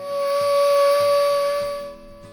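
A 100-year-old fire siren holds a loud, steady high wail over a low rhythmic chugging, then cuts off sharply, leaving a quieter hiss.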